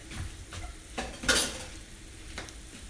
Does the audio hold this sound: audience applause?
no